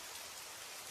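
Steady, dense rain falls continuously at close range, an even hiss spread across the whole short stretch with no voices or other sounds breaking through.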